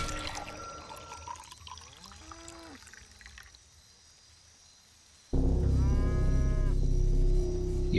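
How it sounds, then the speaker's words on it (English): Pumps in the Wasteland 2 video game flush serum through a reservoir system: warbling mechanical whines give way to a loud, steady rushing roar that starts suddenly about two-thirds of the way in and holds to the end. "You pour the serum into the reservoir and hear the pumps start to flush it through the system."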